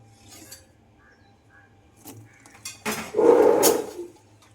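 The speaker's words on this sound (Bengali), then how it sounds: "তেলটা গরম হয়ে গেছে, তাই তেলের মধ্যে সবার প্রথমে দিয়ে দিচ্ছি পেঁয়াজ কুচি, রসুন কুচি এবং কিছু লঙ্কা চেরা।" Chopped onion, garlic and split chillies dropped into hot oil in a pan, a faint clink or two and then a sudden loud burst of sizzling that swells and fades within about a second.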